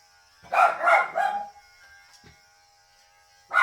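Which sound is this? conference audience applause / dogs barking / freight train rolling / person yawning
dogs barking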